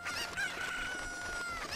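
A chicken in Zelda: Ocarina of Time crowing and clucking, a continuous, loud, close call with a warbling, squawking tone.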